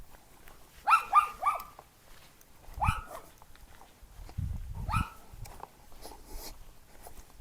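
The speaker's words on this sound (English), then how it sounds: "This crazy dog just won't stop," A dog near the last house before a park trail barks repeatedly in short, scattered bursts, several sharp yaps and rougher woofs at moderate distance, set over quiet outdoor background.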